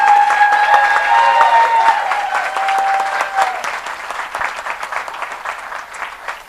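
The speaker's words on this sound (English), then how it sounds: "I think they really do deserve a round of applause." An audience applauds steadily for the volunteer Dallas Way board members as they stand to be recognized at an Outrageous Oral event; dense, close clapping holds for several seconds, then thins slightly toward the end.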